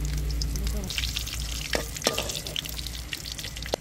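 Bay leaves and dried red chilies hit hot oil, a loud close sizzle and crackle with a few stirring scrapes and clinks.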